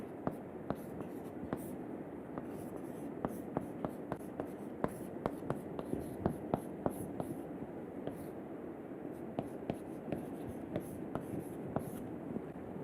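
Chalk or pen writes an equation during a classroom lecture, tapping and scratching steadily in quick strokes over a soft room hum, close and moderately quiet.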